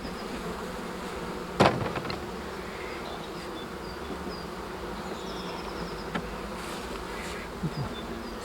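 A steady, dense buzz of honeybees at an open hive during a spring inspection fills the whole stretch, with a brief louder knock or thump early on and a few faint clicks later.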